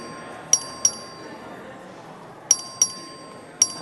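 A bell is struck repeatedly to open a record vote on the floor of the state House, giving sharp metallic dings in short pairs over faint room murmur.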